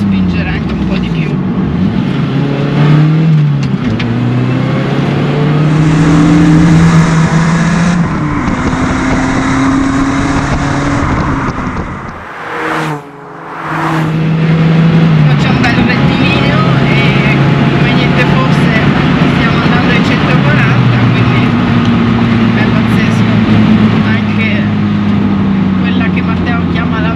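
Lotus Elise sports car engine driving at speed, its pitch rising and falling through gear changes around a bend, with a brief dip midway, under continuous Italian talk from the driver.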